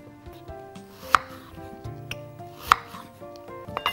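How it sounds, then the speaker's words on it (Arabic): A knife chopping onions on a board in a home kitchen, with olive oil heating nearby, giving a few sharp, close knife strikes spaced irregularly over a quiet background, with no voices. "خلينا نقطع البصل بتاعنا"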